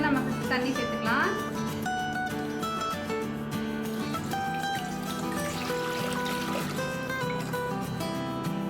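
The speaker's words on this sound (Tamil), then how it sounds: "அதில் வந்து நம்ம தண்ணி சேர்த்துக்கலாம்." Water poured into a cooking pan before chicken drumsticks are boiled, a light trickle running under steady talking and background music.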